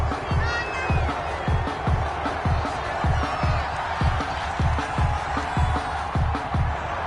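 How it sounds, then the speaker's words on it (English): Stadium crowd in a football video game reacting to a roughing penalty flag, a steady loud roar of massed voices with rhythmic low thumps pulsing beneath it throughout. "this crowd does not like that call"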